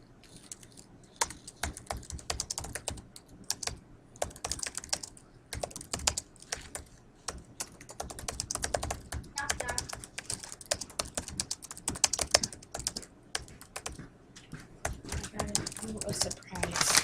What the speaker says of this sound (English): We're going to type a report about respect.